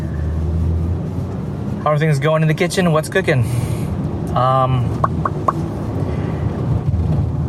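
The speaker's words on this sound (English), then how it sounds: "And if you hear some humming in the background as I'm scooting along" A low, steady road hum from a vehicle moving along sits under a person talking close by, a constant rumble that never drops out.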